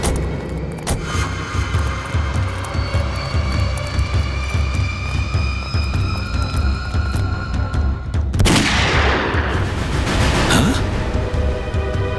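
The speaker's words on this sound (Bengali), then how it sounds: "গুলি চলার শব্দ।" A gunshot in a Bengali CID crime drama: one sharp, loud blast lands near the end of the clip and decays over a steady, rumbling background drone.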